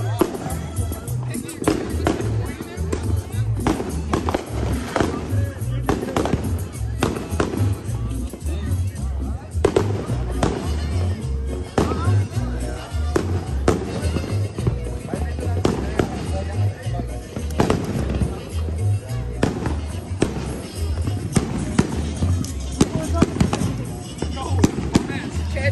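Fireworks from a 42-shot fan kit fire in a rapid, continuous barrage of loud booms and crackles at a Fourth of July block party, with people talking and shouting over the blasts.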